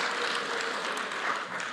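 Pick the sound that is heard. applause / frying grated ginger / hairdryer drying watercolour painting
applause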